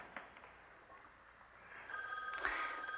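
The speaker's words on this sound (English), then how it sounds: "Phone's ringing." A telephone bell begins ringing partway through, a bright sustained trill following a quiet stretch.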